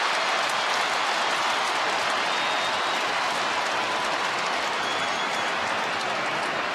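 A dense, roaring wall of stadium crowd noise fills Etihad Stadium after an Essendon goal at an AFL match against Greater Western Sydney, loud and continuous cheering and applause throughout.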